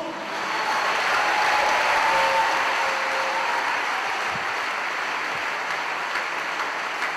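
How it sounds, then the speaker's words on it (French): A congregation applauds and cheers for a pastor at a church gathering in Gabon, a continuous wash of clapping that swells over the first seconds and then holds at a steady level. "S'il vous plaît, vos ovations."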